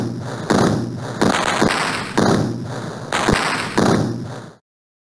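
Shells fired in Super Battleship, a Sega Genesis naval battle game: five loud, booming blasts in quick succession, each a heavy thud with a crackling tail, and no talking.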